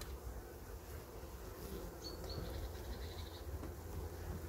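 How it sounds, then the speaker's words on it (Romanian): Honeybees from a hungry, food-stressed colony fly around their hive, giving a continuous soft buzzing drone close by, with no voices. "Iată aceste albinuțe,"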